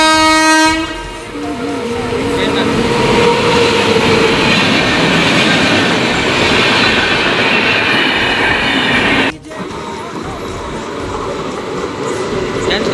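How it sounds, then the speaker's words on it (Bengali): A passenger train in West Bengal runs steadily on its rails, a loud, continuous rumble and rattle heard from aboard, with a brief horn-like tone at the start and a short dip near the end. "ফাইনালি আমরা এই যে দেখো আমাদের মুক্তেশ্বর থেকে ট্রেনে উঠে গেছি"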